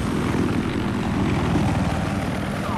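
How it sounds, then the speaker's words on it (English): A helicopter in the video game Battlefield Hardline, on the Downtown map, gives a steady, loud rotor and engine roar that holds constant throughout. "Chopper crashed."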